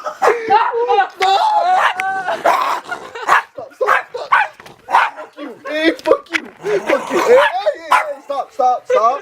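An excited dog barks and yips repeatedly while biting someone's foot indoors, loud, close bursts mixed with frantic shouting voices throughout.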